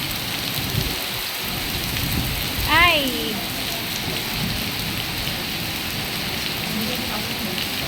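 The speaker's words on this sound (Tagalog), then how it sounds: "Lakas ng ulan." Heavy rain pours steadily throughout, a dense broadband hiss, with a brief exclaimed voice and a short whistling call partway through.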